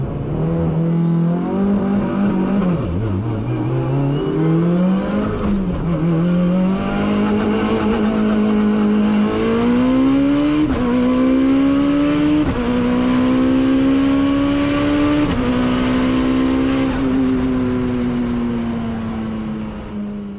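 A sequential-shifted Mitsubishi Evo 9 making 1000 whp revs hard and accelerates through several gear changes, its loud engine note climbing and dropping repeatedly over twenty seconds with no talking.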